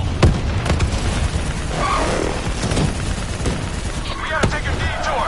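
Continuous battlefield gunfire in the video game Black Ops 3, a dense wash of shots and booming impacts with sharp cracks, loud and close, with shouted voices mixed in.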